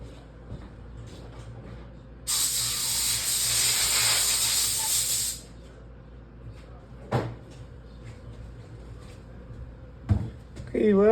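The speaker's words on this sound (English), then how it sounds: "Blow it off with the compressor." Compressed air from a compressor blasts over a freshly cleaned engine part in a garage tune-up, one steady loud hiss lasting about three seconds, followed by a couple of sharp knocks and some handling clatter.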